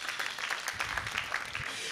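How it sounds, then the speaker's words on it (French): An audience applauds two university debate teams at a youth human-rights debate final in Guinea, lively clapping with audible individual hand strikes, close and fairly loud, with some crowd noise underneath. "je vous demande d'applaudir"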